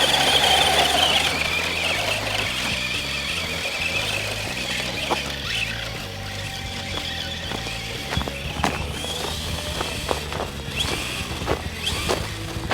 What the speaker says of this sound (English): Right, here we go, 4x4 up Gold Mine Hill.